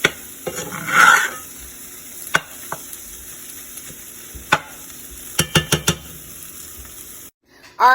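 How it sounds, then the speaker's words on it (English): Sausage fried rice with seasonings and peppers being stirred in a pan, giving a low steady sizzle broken by several sharp scrapes and clinks of the utensil against the pan, with no talk. "I'm just stirring it up."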